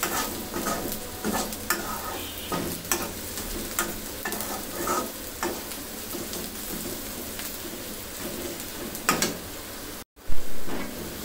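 Spice paste frying over low heat in a pan for Punjabi-style chicken, a soft steady sizzle broken by repeated scraping stirs, then a brief gap and a louder clatter at the end.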